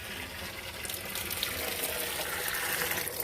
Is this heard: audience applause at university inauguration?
no